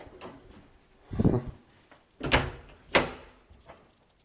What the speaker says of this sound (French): Double porte.